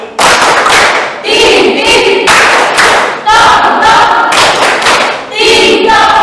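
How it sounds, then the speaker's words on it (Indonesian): A school class claps in a rhythmic thank-you cheer, with loud bursts of hand claps and chanted group shouts coming in short, repeated waves, close and energetic. "Tepuk terima kasih"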